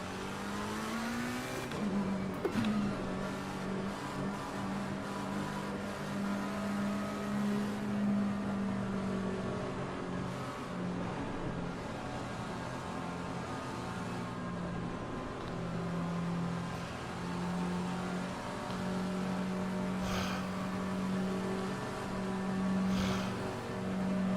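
Race car engine in Assetto Corsa Competizione at Imola holds a steady, droning whine, with pitch rising through the gears and then sustained high revs. Close, continuous and alone, with occasional clicks of gear shifts.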